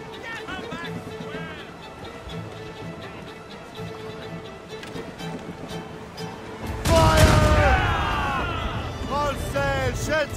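Ship cannons firing in the Assassin's Creed video game: a rumbling naval battle soundscape that erupts into a loud, booming blast and crackle partway through, with voices shouting over it.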